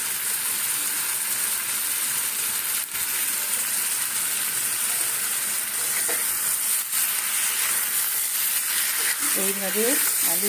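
Potatoes and pointed gourd hit hot oil and fry with a dense, continuous hiss that stays loud and even throughout, with a few faint clicks and a brief voice near the end.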